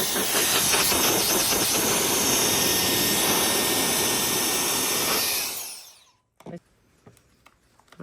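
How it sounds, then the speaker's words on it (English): A router cuts into a cedar fence picket, a loud, continuous high whining roar that strains at the knot holes, then spins down and stops, leaving a few faint knocks afterward. "you can hear the router grind a little harder"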